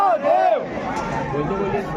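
Dense crowd murmur fills a packed queue at Mahakaleshwar Temple in Ujjain, a steady babble of many voices, with one nearer voice clearly speaking over it at the start.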